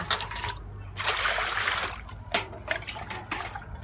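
Water poured from a mug into a bucket while rinsing clothes to check for colour bleeding, splashing in bursts with short pauses between pours, close and fairly loud.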